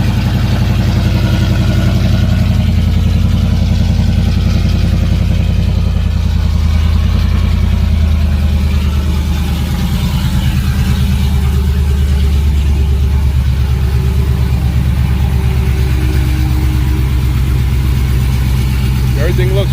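A cammed Ram truck engine idles loud and close after a cold start, a steady deep rumble with a lumpy, choppy rhythm running throughout.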